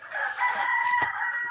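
A rooster on a farm crows once in the morning, a single loud, close cock-a-doodle-doo call with a brief clucking note, heard alone without talk.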